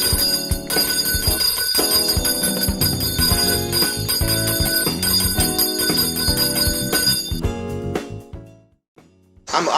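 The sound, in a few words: bell ringing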